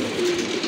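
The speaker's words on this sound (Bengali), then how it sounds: "এখানে কিন্তু আরেক জোড়া কবুতর আছে, কালো হুমা না, ব্ল্যাক হুমা কবুতর" Pigeons on a farm, including a pair of Black Huma pigeons, give a steady low cooing murmur close by, with a continuous faint hiss in the background and no talking.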